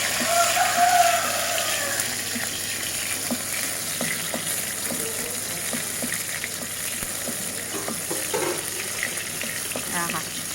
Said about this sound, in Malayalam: ക്യാഷ് മുന്തിരി തക്കാളി തക്കാളി ഇത് നമുക്കൊന്ന് വഴറ്റിയെടുക്കാം